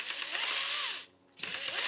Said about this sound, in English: if you're going to use a drill to do this, make sure you have it in the right setting